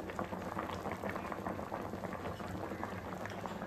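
Fish curry comes to a boil in a pot, giving off a faint, continuous bubbling and simmering hiss that stays steady throughout, with no voices.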